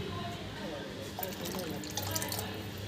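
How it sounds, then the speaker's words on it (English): Half a cup of water is poured into a pot of soaking chole for chole masala, a steady liquid fill running continuously under a low background hum. "I just want to add in half cup of more water"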